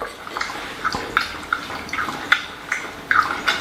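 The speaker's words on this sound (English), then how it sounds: "with the dog lapping water in her bowl" A dog laps water from her bowl close by, producing a quiet series of irregular wet slurps and drips over a soft background hiss.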